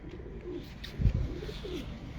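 A breeder pigeon coos softly and close, a few low murmuring coo phrases over quiet background, with no talking.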